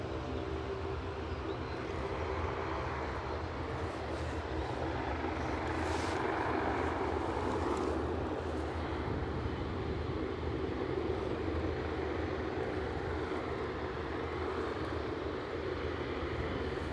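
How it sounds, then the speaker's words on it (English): A Loganair ATR 72-600 turboprop on approach to Aberdeen Airport produces a continuous, fairly loud engine drone and rumble with a faint whine, steady for the whole stretch, and no talking. "somebody else is on finals, I see. Loganair, inbound from Sunborough, ATR 72600"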